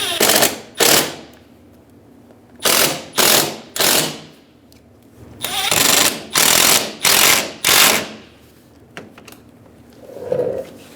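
A ratchet drives in the bolts on the grille of a 2011-2014 Hyundai Sonata. Loud, close clicking bursts come in several separate runs with short pauses between them, each a rapid rattle of pawl clicks.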